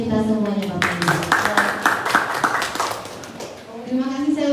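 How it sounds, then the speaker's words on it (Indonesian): A short burst of clapping from a seated school audience of teachers and staff at a positive school culture session, heard between spoken words from a presenter whose voice runs before and after it. "Tepuk tangan untuk kita semuanya Bapak Ibu."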